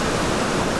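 Waterfall on Watkins Path in Snowdonia in autumn, a loud, steady, close roar of rushing water with no break, filling the whole brief moment.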